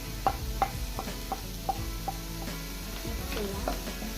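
Salt and masala being mixed into chicken pasta in a pan, with a run of regular spatula taps and scrapes against the metal over a low steady sizzle, close up and without speech.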